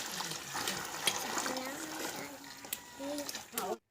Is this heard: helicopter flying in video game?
no